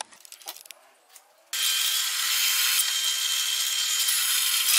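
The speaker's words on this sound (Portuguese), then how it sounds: "Vou fazer esse furo aqui. Um furo de 8 milímetros." A power drill bores an 8 mm hole: after a second and a half of scattered clicks and handling noise, a loud, steady high-pitched whine starts abruptly and holds to the end, close to the mic.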